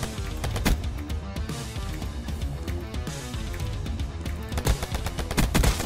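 Rapid bursts of video game gunfire, including shotgun blasts, crack in quick succession on a busy map, loud and close with dense overlapping shots throughout and no talking.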